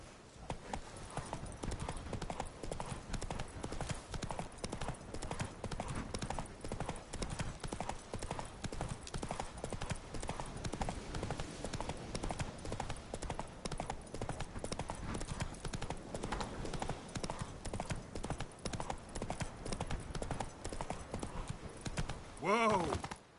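Roach the horse's hooves clip-clop in a steady rhythm across Witcher 3 terrain, mixed with game music and ambience, and a voice speaks briefly over the hoofbeats.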